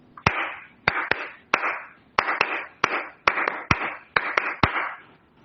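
Flamenco palmas lisas, flat open-hand clapping, about fifteen sharp, bright claps in a steady rhythmic pattern with some quick doubled strikes, close and clear with no other sound.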